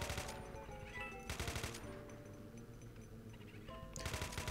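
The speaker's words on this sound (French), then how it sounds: "La mitraillette, elle fait ses dégâts." Submachine gun fire in the video game Golden Souls 2: rapid bursts of automatic shots in a couple of sharp, dense volleys with quieter gaps between, fairly faint overall.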